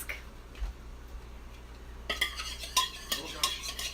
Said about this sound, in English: Beat until smooth, then whisk in the ricotta.